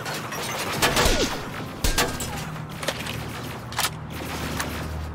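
Sniper rifle shots ring out in the video game Terminator Resistance, a few sharp cracks spaced irregularly over a low steady background hum, loud and near, with no talking.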